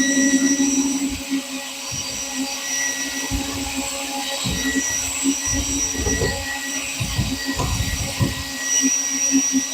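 A powered mixer churns boat paint in a can with a continuous, loud whirring drone that rises and falls slightly with the stirring, heard close up with no speech.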